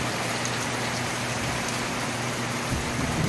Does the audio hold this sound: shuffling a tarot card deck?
no